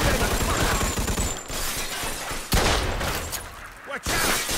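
Dense, continuous gunfire from a Mafia 2: Definitive Edition firefight, with sharp crashing shots and breaking debris over a steady roar, and voices shouting underneath.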